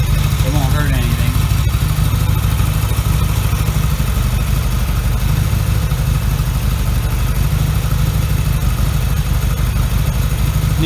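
A Yamaha XS650 motorcycle engine idles steadily, a loud, constant low rumble with an even mechanical throb that holds without change throughout and never revs up or down.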